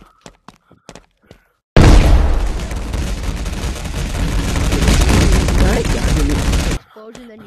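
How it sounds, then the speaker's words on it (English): A loud, sudden blast in a video game bursts in after a few faint taps, then a dense, sustained roar of rumbling debris and crackling fire that holds for about five seconds before cutting off abruptly. "Explosion, then you just pass away."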